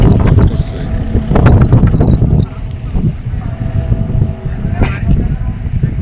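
Motorbike cruising at about 80 km/h on the mountain road from Lamayuru to Leh, Ladakh, with heavy, gusting wind roar buffeting the microphone throughout and a few faint engine tones beneath.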